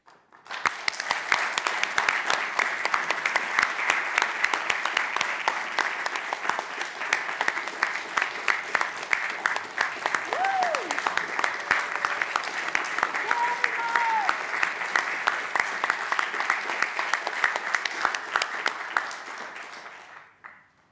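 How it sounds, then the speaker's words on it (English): Sustained audience applause at a transit board of commissioners meeting, dense steady clapping lasting about twenty seconds from a room full of people, with faint voices and a brief call or whistle mixed in before it fades out. "I'd like a big round of applause, please, for Mark."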